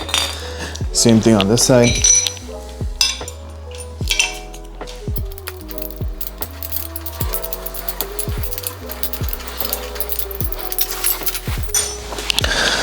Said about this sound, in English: Just gotta take these bolts off and they should come out.